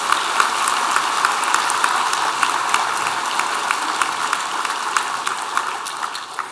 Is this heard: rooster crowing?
no